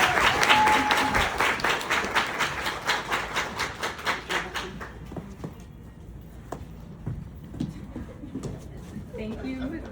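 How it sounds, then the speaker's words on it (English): An audience at an evening book conversation claps for an author, the applause tapering into slower, thinning claps that stop halfway, followed by a quiet room with faint movement and the start of a voice. "please give her a huge round of applause"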